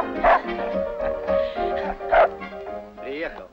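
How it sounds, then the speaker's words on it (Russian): Dogs bark and yip in a few sharp bursts, mixed with people talking over and around them. "Смотрите! Собаки!"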